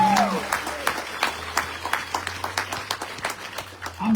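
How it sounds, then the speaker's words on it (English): An audience at a community peace gathering in Opelika, Alabama claps in a scattered, moderate burst of applause, with a few distinct nearby claps standing out and a brief voice at the very end. "So everyone give applause for the Foundry Opelika family."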